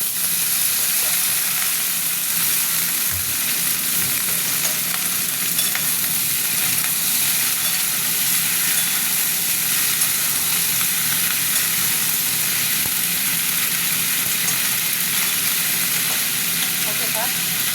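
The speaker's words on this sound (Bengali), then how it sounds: "এবার আমি সবজিগুলো দিয়ে দিলাম।" Onions and vegetables fry in a pan with a steady, loud, continuous sizzle and hiss, stirred now and then with faint scraping, close up throughout.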